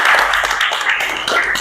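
Students in a classroom give a short burst of applause, fairly loud and close, dense clapping lasting under two seconds.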